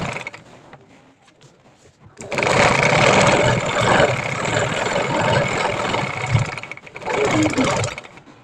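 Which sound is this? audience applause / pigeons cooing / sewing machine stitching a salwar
sewing machine stitching a salwar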